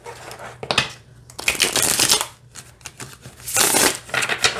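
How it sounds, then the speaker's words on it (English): A deck of Harmony Tarot cards is shuffled by hand in several bursts, crisp riffling and sliding card noises close up, separated by short pauses. "I can manipulate and shuffle the cards and they're not going to fall apart on me."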